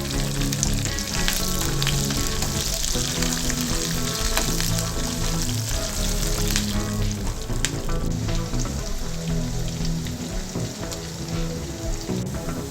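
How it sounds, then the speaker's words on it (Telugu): Green chilies, onion pieces and curry leaves fry in a hot pan for a Telugu cabbage and chana dal stir-fry, giving a loud, steady sizzle with a few scattered pops that runs the whole time, with no voices. "అల్లం ముక్కలు ఫ్రై అయిన తర్వాత పచ్చిమిర్చి, ఉల్లిపాయ ముక్కలు, కరివేపాకు వేసుకోవాలి."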